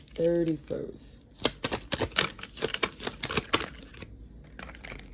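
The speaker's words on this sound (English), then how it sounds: "I just want to get a good shuffle" A brief voice, then quick rapid riffling and tapping of oracle cards being shuffled in short bursts, close and fairly soft.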